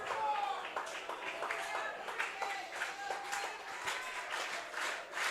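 High school baseball crowd at a state semifinal clapping and cheering at a moderate distance, scattered claps running steadily beneath a play-by-play commentator talking throughout.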